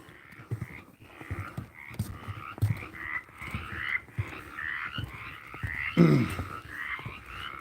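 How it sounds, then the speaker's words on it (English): A frog croaks repeatedly outdoors in a steady pulsing series of fairly close calls, with one louder, harsher burst near the end and no voices over it. "You got the frog stirred up."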